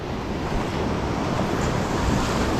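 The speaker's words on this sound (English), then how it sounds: "very coloured water, and quite a swell on as well" Heavy sea swell breaks and washes along the shore at dusk in coloured water with big tides, a continuous loud roar of surf mixed with gusting wind buffeting the microphone.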